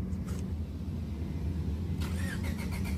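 A Honda Integra GSR Type R cranks and fires into a steady idle, the starter whir and catch heard up close over a continuous low engine rumble.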